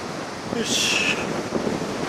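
Wind gusts across Kujukuri Beach after a typhoon, driving blowing sand along the shore in a loud hissing burst mid-clip over a steady rushing background, close to the microphone.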